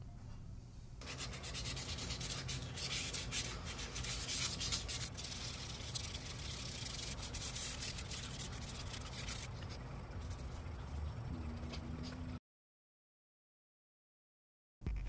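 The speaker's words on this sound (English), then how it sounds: "Now to smooth everything over with some wet sanding." Wet sanding smooths a sculpted head of a cosmic jester figure, giving a continuous, close rubbing and scraping that runs steadily for about twelve seconds before cutting to silence.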